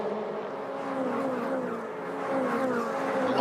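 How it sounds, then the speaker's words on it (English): Colt race cars of the Repco NextGen NZ Championship roar past on track, a steady loud engine drone with shifting pitch as several cars run close together through the corners, with no voices over it. "Love that sound, these Colt cars."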